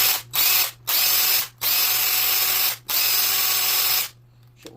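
Power drill used as a makeshift kitchen tool, whining steadily at top speed in four long bursts with brief gaps between, loud and close, then falling silent.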